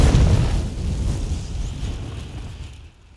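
A Confringo fire spell explodes in Hogwarts Legacy, one loud booming burst at the start whose rumble fades over about three seconds with nobody talking.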